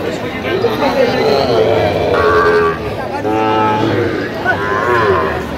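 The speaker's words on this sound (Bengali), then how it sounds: "শাহিওয়ালের ষাঁড়।" A Sahiwal bull lows at a livestock market, with two drawn-out, resonant moos rising over a steady crowd of overlapping voices and background chatter.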